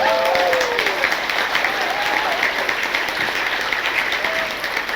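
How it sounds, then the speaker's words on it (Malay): A crowd at a school gala night applauds in a dense, steady roar of clapping that lasts throughout and fades slightly at the end, with a few faint vocal sounds or whistles rising above it. "Jadi berikan tepukan kepada semua."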